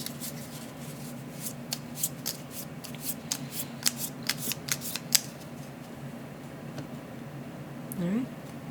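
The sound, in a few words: shuffling board game cards and tiles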